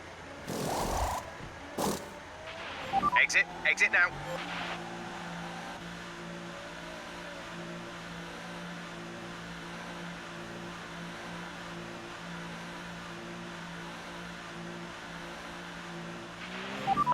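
An F1 2018 race car at the Monaco Grand Prix dives into the pit lane, with a few sharp engine bursts followed by a long, flat, steady engine hum at a limited speed. The whole sequence is faint and continuous.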